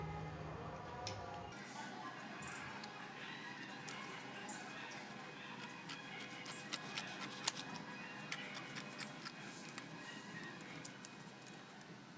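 Scissors cut a sheet of paper for a homemade face mask, making quiet, close snips and crisp clicks in an irregular run over a soft room background.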